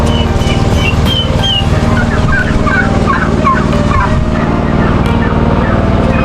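Chickens gobble and cluck repeatedly at a poultry farm over a steady engine-like hum, the calls scattered and overlapping at moderate distance.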